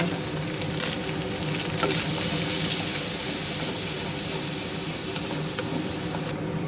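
Garlic paste sizzling loudly in hot oil in a pan just emptied of fried prawns, a dense, steady hiss that holds throughout with no talk.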